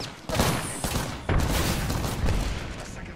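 Sustained gunfire erupts in Apex Legends as a second squad opens up, dense overlapping shots and rattling bursts close by, continuing steadily with faint voices in the mix.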